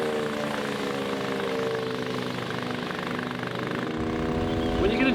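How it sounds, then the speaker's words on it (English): Wood chipper running with small branches being fed through, a loud continuous engine drone with rough grinding, close and steady throughout. "you can get a good feel for it by starting to chip your small branches first"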